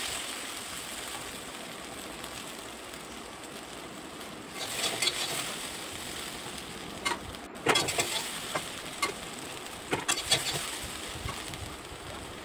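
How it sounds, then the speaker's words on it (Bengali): Bheri meat fries in a wok with a steady hiss of sizzling, broken by several bursts of scraping and stirring strokes against the pan, close up and without speech. "কড়াই নেড়ে নেড়ে ভেড়ির রসটা যেন মরে যায়"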